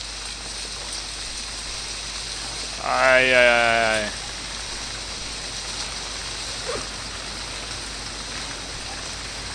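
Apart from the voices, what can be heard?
rain falling in the video game Stranded Deep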